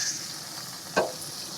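A steak's fat cap, held upright against a hot pan, sears with a steady, close sizzle and a brief sharper pop or crackle near the end.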